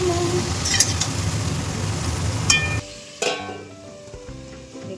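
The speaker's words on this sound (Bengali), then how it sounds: "ফুলকপি ভাজা হচ্ছে" Cauliflower florets frying in hot oil tempered with cumin, dried red chilies and bay leaves, a steady close sizzle that drops away partway, leaving faint crackle and light clinks of utensils.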